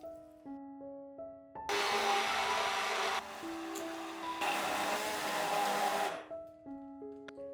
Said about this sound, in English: add about half of the seafood stock and blend everything until it's smooth and silky